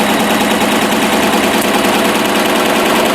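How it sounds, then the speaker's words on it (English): Embroidery machine stitching a design onto a travel bag, a loud, continuous rapid mechanical whir with steady vibration and no pauses. "I'm just going to go ahead and let this stitch."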